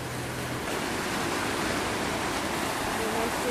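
Ocean swells break as surf after recent storms, a steady broadband wash of rolling water that fills the whole stretch at an even, fairly loud level without distinct pauses.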